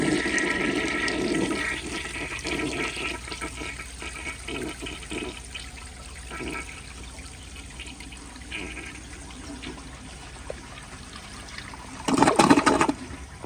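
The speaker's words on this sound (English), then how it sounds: "So here is another flush." A 1975 Kohler Highline toilet flushes with a steady, rushing swirl of water that continues at length, then a louder gurgling burst near the end, close by with no speech.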